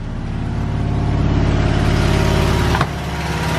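Fiat Cinquecento 700 with a Fiat 126p carburetor running close and loud, engine note held high and steady before dropping abruptly near the end as the revs fall back.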